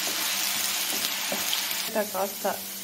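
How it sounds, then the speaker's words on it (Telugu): Thinly cut potato frying in oil makes a steady, bright sizzling hiss that fills the whole stretch, with a few brief spoken sounds near the end. "ముందుగా పొటాటో సన్నగా కట్ చేసుకొని ఆయిల్లో వేయండి. కాసేపు బాగా వేయించండి."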